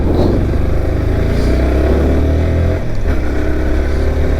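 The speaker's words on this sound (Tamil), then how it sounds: "இது வந்து பார்த்திங்கன்னா ஒரு பழைய வண்டி 2 ஸ்ட்ரோக் வண்டி" An old two-stroke motorcycle engine runs loud and close, a steady buzzy drone that holds constant for several seconds with a brief dip near the end and no talking.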